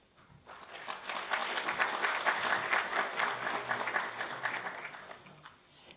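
Loud, sustained applause from an awards ceremony audience in a large hall at Vigyan Bhavan, New Delhi, swelling quickly, holding steady for several seconds, then fading out.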